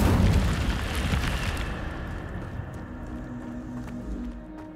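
Incendio fire spell cast in Hogwarts Legacy: a loud burst of fiery roar at the start that fades into a crackling, sizzling tail, heard alone.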